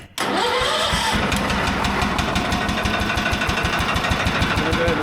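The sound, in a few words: garden tractor engine starting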